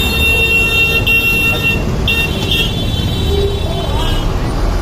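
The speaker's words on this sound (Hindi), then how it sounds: "अभी हम मैं देखा इस रोड पे बहुत ज़्यादा ट्रैफिक रहती है।" Heavy road traffic on 60 Feet Road in Dharavi, Mumbai: a constant loud roar of engines with horn toots and a siren-like tone rising above it, with voices under the din.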